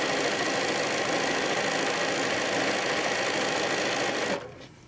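A sewing machine runs steadily, stitching light blue rectangles onto a quilt block with a fast, even mechanical whir that stops abruptly near the end.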